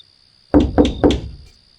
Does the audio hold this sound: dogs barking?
no